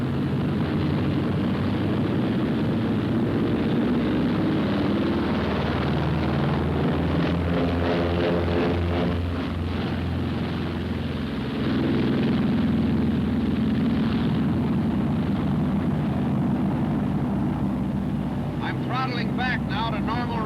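Martin B-26 bomber engines and propellers roar loudly and steadily through takeoff, a dense continuous drone that holds its level throughout while someone talks over it.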